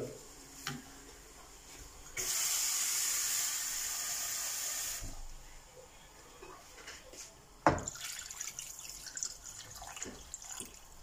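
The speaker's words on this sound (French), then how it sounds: "on va mettre à peu près 1 litre. 1 litre d'eau. On va mouiller jusqu'à hauteur." Water pours into a pot of fish carcasses and trimmings for fish stock, a hissing stream for about three seconds followed by quieter clinks and drips.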